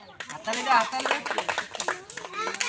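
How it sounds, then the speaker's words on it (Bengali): Onlookers at a blindfolded ball-in-pot challenge game give a short burst of applause, the claps mixed with children's excited voices talking over them. "দর্শকরা একটা হাততালি দিয়ে দাও।"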